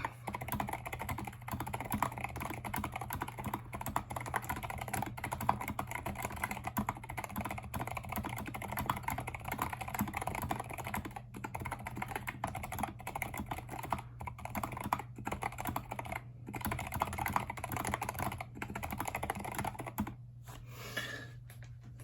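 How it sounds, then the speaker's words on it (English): Continuous rapid typing on a computer keyboard fitted with a newly installed full stock alpha keycap set, a dense, steady clatter of keystrokes over a low electrical hum, easing off briefly near the end. "I'm typing at about an inch and a half higher up than I normally do"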